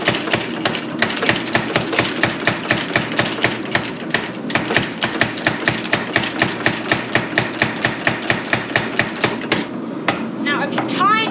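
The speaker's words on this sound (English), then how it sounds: "you gotta be careful with trip hammer." A power trip hammer pounds in a fast, even rhythm of heavy metallic blows, close and loud, then stops near the end.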